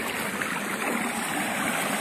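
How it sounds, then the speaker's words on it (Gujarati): Irrigation water running steadily through a channel in a cotton field, a continuous close broadband rush and gurgle with no pauses and no voices. "આપણું પાણી હાલે છે, જોઈ શકો છો."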